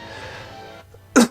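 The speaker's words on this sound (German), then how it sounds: "Sogar Husten vor lauter Aufregung." A single short, sharp cough bursts out near the end after a stretch of quiet background hum, spoken during an excited gaming session.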